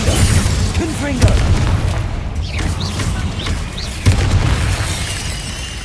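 Spell explosions from Bombarda and Confringo in the video game Hogwarts Legacy, with repeated booming blasts and bursts rolling over a dense, continuous wash of combat noise, loud and close throughout.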